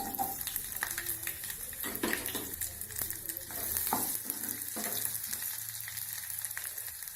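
Mustard seeds, cumin and onion frying in oil for a sweet potato curry, a continuous close sizzle with scattered crackling pops and scraping stirs throughout.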